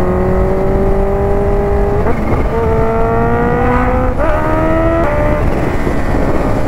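A Kawasaki H2 motorcycle engine revs loud and close, its harmonic whine climbing steadily, with quick shift-like breaks around two, four and five seconds before it pulls upward again.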